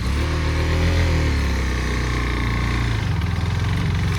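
A motorcycle engine idles and revs close by, a steady loud throb with a shift in pitch partway through and no talking.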